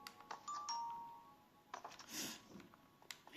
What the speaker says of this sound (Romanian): Și aici am o sonerie